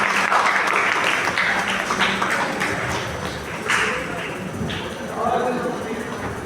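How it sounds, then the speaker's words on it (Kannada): A hall audience at a college welcome function claps loudly and steadily, a dense wash of hands that stays strong throughout, with a slight dip partway before swelling again. "ಜೋರಾದ ಚಪ್ಪಾಳೆಯೊಂದಿಗೆ ಪ್ರೋತ್ಸಾಹ."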